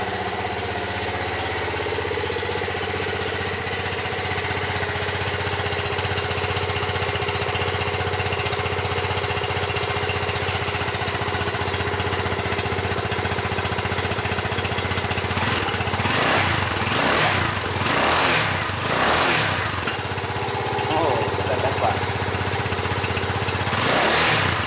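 A Yamaha FZ25 motorcycle engine idles steadily at close range, with a burst of revving or starting activity around the middle before settling back into a continuous idle.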